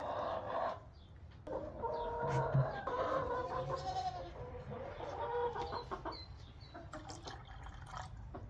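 Chickens cluck and murmur close by in a busy barn coop, with scattered short calls and faint drips in the background.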